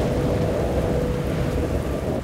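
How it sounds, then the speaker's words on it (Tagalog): Heavy rain pours down hard and steadily around a teacher rowing a boat to school, with a dense, loud roar of rain on water and a deep rumble underneath throughout. "nadagdagan pa nung bumuhos ang malakas na ulan"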